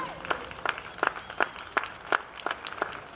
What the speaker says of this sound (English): How about a big round of applause for all of our women?